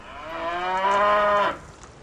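A cow gives a single drawn-out moo, rising and holding strongly before cutting off, clear and fairly close against a quiet background.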